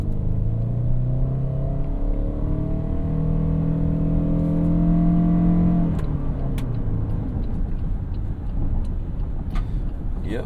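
A 2025 Toyota Sienna Platinum hybrid minivan accelerates hard from a stop in sport mode, its engine drone rising steadily in pitch for several seconds, then settling into a steady road rumble with tire noise.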